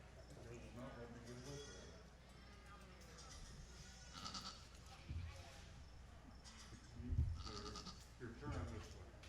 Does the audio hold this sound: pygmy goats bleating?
yes